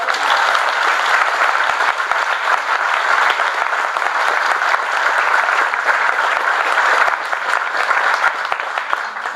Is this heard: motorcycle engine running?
no